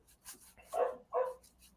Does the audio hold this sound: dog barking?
yes